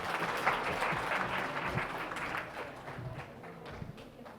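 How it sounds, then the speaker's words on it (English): An audience applauds a student group at an evening presentation session, a dense wash of clapping that holds strong and then tapers slightly toward the end. "big applause for them"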